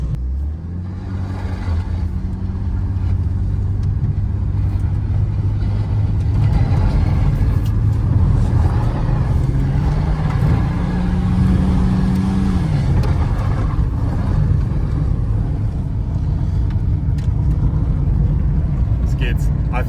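Ford Falcon that sat for 15 years, driven in low gear with a struggling transmission, a loud steady engine drone with rising pitch and a whining tone throughout, close up from inside the car.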